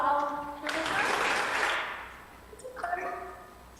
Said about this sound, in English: Give applause for our professor.